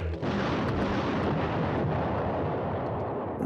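A single heavy cannon blast from an IS-2 tank on a firing range, heard from about 2.5 kilometres, a loud booming burst that rolls off into a long, rumbling decay.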